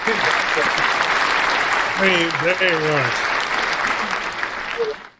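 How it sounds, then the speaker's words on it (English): Round of applause from a small group, continuous clapping beneath a voice speaking briefly over it in the middle, fading out at the end. "A drink and a round of applause"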